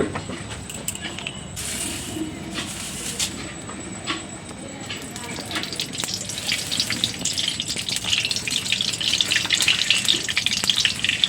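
Oil heating in a kadai, leftover fish-frying oil topped up with more, for a Bengali-style rohu fish curry; a soft sizzling hiss grows steadily louder, with occasional clinks and taps near the start.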